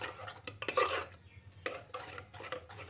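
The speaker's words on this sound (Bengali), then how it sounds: "এবার একটা গোল হাতার সাহায্যে" Boiled biuli dal mashed with a round ladle, irregular metallic clinks and scraping against the pot in short bursts, close and fairly loud, no voices.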